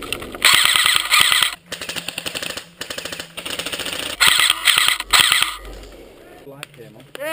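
Airsoft guns firing covering fire in woodland, with loud rapid bursts of mechanical shots in several long strings broken by short pauses, up close, and voices heard briefly between bursts.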